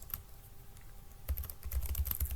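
Fingers type on a computer keyboard, light sparse clicks at first building to a quick cluster of close key presses toward the end.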